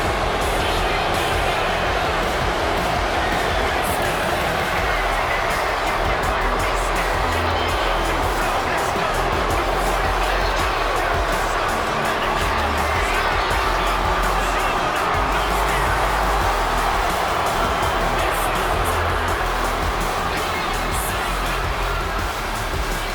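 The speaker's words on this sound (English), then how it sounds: "The boos from the crowd" Arena crowd in WWE 2K25 booing Dominik, a steady, dense roar of jeers sustained throughout at high level, broad and continuous with no pauses.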